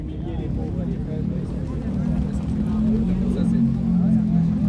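A 1944 BMW motorcycle engine runs steadily with a low, continuous rumble amid a crowded motorcyclists' protest rally near the Arc de Triomphe, with voices talking over it throughout.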